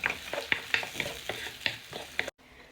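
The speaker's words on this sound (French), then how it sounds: "dans une poêle, j'ai mis un peu de beurre, de l'huile, de l'ail râpé et la moitié d'un petit oignon. Voilà, je fais mijoter un petit peu." Butter, oil, grated garlic and half a small onion sizzling in a frying pan, with a steady fry hiss and a rhythmic series of utensil scrapes and taps against the pan, close and fairly quiet, ending abruptly.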